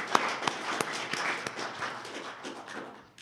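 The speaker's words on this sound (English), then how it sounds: "a round of applause for our panel" Brief, faint applause from a conference audience after a panel Q&A session, scattered distinct claps over a soft wash, tapering off quickly.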